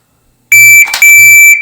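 Loud electronic shot timer beep for a pistol holster drill, a sharp sustained tone starting abruptly, briefly broken by a noisy burst in the middle, then continuing before cutting off.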